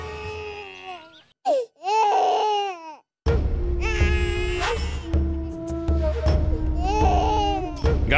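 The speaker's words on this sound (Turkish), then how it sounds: "Bebeğin ağladığını duymuyor musun?" An infant cries in short wailing bursts separated by pauses, then keeps crying loudly over a low background hum.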